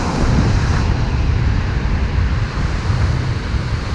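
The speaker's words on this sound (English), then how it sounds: "big waves" Big ocean waves break and wash onto the white sand of Macaroni Beach on Mustique, a continuous loud roar of surf mixed with wind buffeting the microphone, with no voices.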